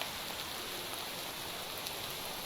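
Soft rain falls outdoors beside a fire pit, a faint, even hiss that stays constant throughout with no voices.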